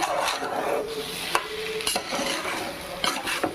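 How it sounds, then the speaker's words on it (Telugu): Garam masala being stirred into pudina (mint) rice in a pan, giving a close, steady scrape and rustle over a soft sizzle, with sharp clicks of a utensil against the pan. "గరం మసాలా ఇంకా తిప్పేసుకుందాం."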